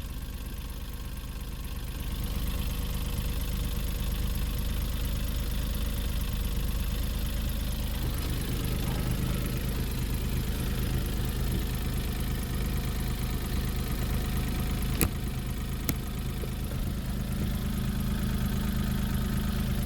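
A Smart Fortwo 451 MHD engine idles steadily and low throughout, a close, even mechanical hum with a couple of faint clicks partway through.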